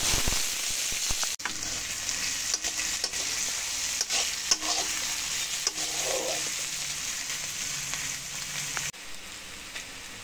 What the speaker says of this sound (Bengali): ফোড়নটা ভাজা হয়ে গেছে, এখন পেঁয়াজ কুচি দিই।